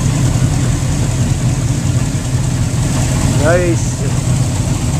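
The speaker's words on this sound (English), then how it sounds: "Let's give you a shot of the engine." A Mercury outboard boat engine idles steadily at a dock, a low continuous rumble running throughout, with a brief voice speaking over it near the end.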